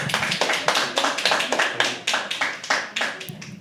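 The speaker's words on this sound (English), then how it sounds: "Keep clapping till he comes on stage." Crowd at a live poetry open mic clapping steadily for the next performer, a dense close patter of many hands lasting throughout with a few voices mixed in.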